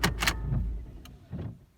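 A Volkswagen Passat B6/B7 with automatic transmission being switched off: a few quick, close mechanical clicks and knocks at the start, followed by a fainter click and a soft electrical whir inside the car.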